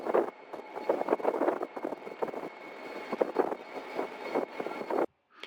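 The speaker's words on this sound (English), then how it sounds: "You can hear the gas turbines in the background." Gas turbines on the bridge wing of an Arleigh Burke-class destroyer give a steady roaring drone with a sustained high whistle over it, gusting wind-like bursts rising and falling, then stopping abruptly near the end.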